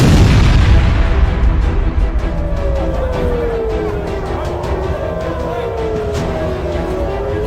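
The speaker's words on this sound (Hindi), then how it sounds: "दिसंबर में ये हूती का पहला हमला है जिसने तेल अवीव में मिसाइल हमले से भारी तबाही" Missile strike on Tel Aviv in news footage: a heavy booming blast at the start that decays into a long rumble, with a wavering siren-like tone sweeping faintly through the aftermath.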